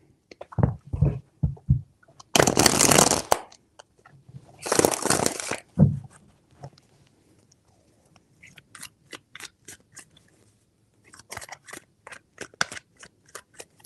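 Tarot cards are shuffled close up in two quick rasping bursts, followed by a scatter of light clicks and taps as the deck is handled, with no one speaking.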